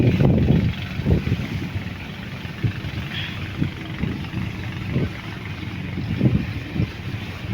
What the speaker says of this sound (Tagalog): kakross po namin ang parang water jet